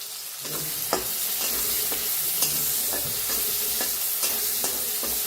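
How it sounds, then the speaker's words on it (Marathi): Chopped onion and crushed garlic frying in a pan, a steady close sizzle with periodic clinks and scrapes of a spoon stirring through it, no voices. "1 कांदा कापून घेतलाय, ती बी टाकूया. लसूण चेचून घेतलाय, ते बी टाकूया. आणि छान दोन्ही भाजून घेऊया."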